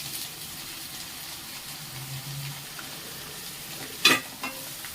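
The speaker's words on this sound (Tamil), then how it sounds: "உப்பு கருவேப்பிலை போட்டு கிண்டியாச்சுன்னு நல்லா வதங்கட்டும்" Onions and green chillies sautéing with salt and curry leaves in a pan, for a fry of goat brain: a soft, steady low sizzle with faint stirring, then a brief louder scrape or clatter of the spoon near the end.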